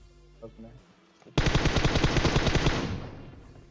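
Burst of rapid automatic gunfire in PUBG Mobile, a loud sustained volley of closely spaced shots lasting about a second and a half before tailing off, preceded by a few faint sounds.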